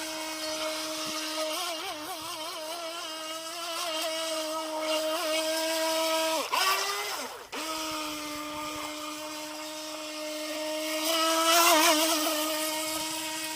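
The brushed electric motor of a Skytech H100 RC boat whines at speed, a loud, steady high-pitched buzz that wavers briefly as the boat turns, then holds and swells near the end.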